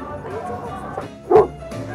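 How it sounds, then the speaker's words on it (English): A single short Golden Retriever bark rises out of a quiet café room, with faint low murmuring around it. "What are you barking at?"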